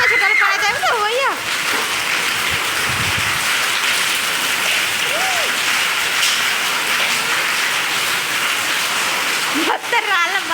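Hailstones pelt down during a Hyderabad hailstorm, a dense, steady roar of impacts that runs throughout, with voices speaking briefly at the start and end.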